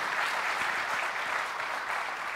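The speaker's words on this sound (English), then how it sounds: "I want to give a nice round of applause to the panel" An audience at a Middle East panel discussion gives a steady round of applause, dense and even throughout, with no talking.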